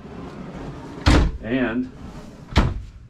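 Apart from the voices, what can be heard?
drawers opening and closing in Newell coach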